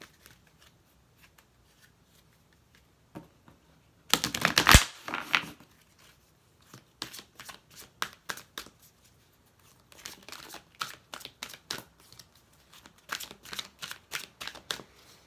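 Oracle cards being shuffled by hand: a loud riffling burst followed by repeated short papery bursts of card handling and tapping, with no voices.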